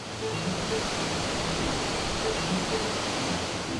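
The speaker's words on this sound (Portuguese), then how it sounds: "As imagens do arquivo da TV Diário mostram as comportas abertas. Dá para ter uma noção da velocidade da água." Water rushes through the open floodgates of a dam, a steady, dense roar of white noise that holds at even loudness without breaks and with no voices.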